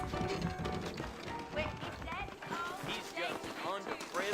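Horse hooves in Red Dead Redemption clip-clop at a steady trotting rhythm, mixed with music and voices talking over them.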